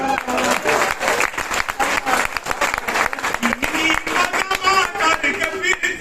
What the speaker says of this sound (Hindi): आप लोग जोरदार तालियां।